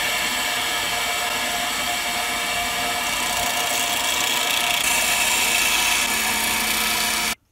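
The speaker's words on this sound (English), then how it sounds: "I drilled a 5 millimeter hole in this piece of scrap to check the fit." Small power drill boring a 5 mm hole through a piece of scrap wood, a steady close whine with broadband cutting noise running continuously for about seven seconds before stopping abruptly.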